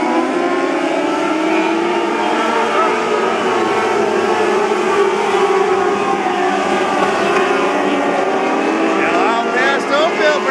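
Micro sprint race cars circling Delta Speedway in a 50-lap main event, with engine whine rising and falling steadily throughout, layered and fairly loud, while a track announcer talks over it.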